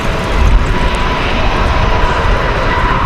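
A small aircraft at Raleigh Durham airport gives off a steady, broad engine roar mixed with gusty wind noise, constant and moderately close, with no talking.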